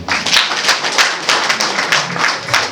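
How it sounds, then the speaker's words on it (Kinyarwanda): Wedding guests applaud in a steady, rhythmic burst of clapping that fills the room and carries on without a break. "aha tubakomera amashyi menshi"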